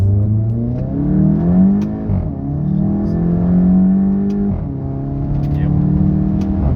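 A Volkswagen Golf 7.5 GTI fitted with a downpipe revs loudly up close, its engine note climbing and falling in repeated rising sweeps with a gruff, throaty tone.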